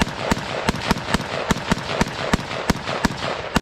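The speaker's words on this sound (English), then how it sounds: "hopefully you won't have to put up with too much gunfire in the background" Rapid, evenly spaced gunshots crack at a firearms training facility, loud sharp reports repeating about every quarter second with no talking.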